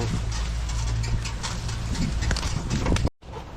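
A working carabao on a Philippine corn farm during harvest, its hooves clip-clopping in a steady close rhythm for a few seconds before cutting off abruptly, with faint background voices.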